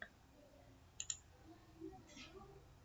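A computer mouse gives a quick pair of faint clicks, followed a moment later by another soft click, in a quiet room.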